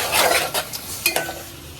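Garlic fries in butter in a pan, with soft sizzling under quick scraping and clattering stirs of a utensil against the metal, close and fairly loud in short bursts.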